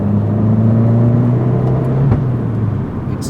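A sports car engine revs hard under acceleration after a downshift, a loud continuous roar with a rising and falling drone and a brief shift blip near the end.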